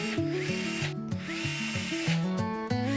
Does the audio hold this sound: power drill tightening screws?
yes